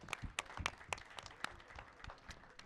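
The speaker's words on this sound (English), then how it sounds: "Round of applause for Anna." Audience at the php[tek] PHP conference giving a round of applause: a short burst of scattered, distinct hand claps from a modest crowd, fairly close, with no talking.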